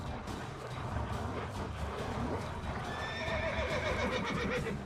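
Roach, Geralt's horse in the video game Witcher 3, whinnies among the clatter of hooves, with a rising neigh near the end over steady background game sound.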